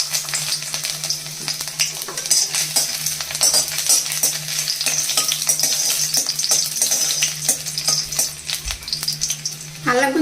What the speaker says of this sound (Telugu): ఇదిగోండి కళాయి వేడైన తర్వాత ఫస్ట్ అల్లం ముక్కలు వేసుకోవాలండి